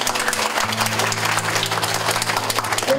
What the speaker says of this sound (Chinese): 可以先给他们一个掌声